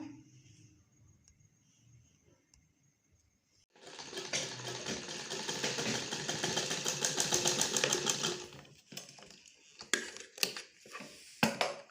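A sewing machine runs steadily for several seconds, stitching pieces of cloth together in a basic tailoring lesson, followed by a few short stop-start bursts and clicks; no voices.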